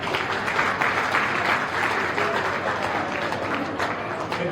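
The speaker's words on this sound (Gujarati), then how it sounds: "તાળી વગાડો." An audience at a religious discourse applauds, a steady, fairly loud mass of clapping from many hands that runs without pause throughout.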